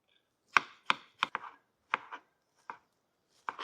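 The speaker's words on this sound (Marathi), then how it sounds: "टमाटर बारीक कट करून घेऊ।" A knife finely chops tomatoes on a board: sharp, close, distinct thuds land singly and in quick pairs with short pauses between, about nine cuts over a few seconds against silence.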